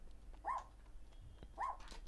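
A dog barks twice inside a fairground coin video game, two short, fairly quiet yaps about a second apart over a low background hum.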